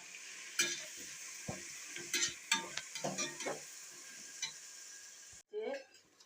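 Ginger garlic paste sizzles faintly in a pan while a spoon stirs and scrapes in irregular bursts, during biryani cooking; a voice speaks briefly in Tamil at the end.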